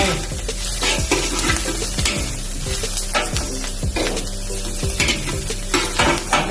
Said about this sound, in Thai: ก็จะใส่กุ้งแห้งนะครับ แล้วก็ตามด้วยเต้าหู้ที่เรานำไปทอดก่อนนะครับลงไป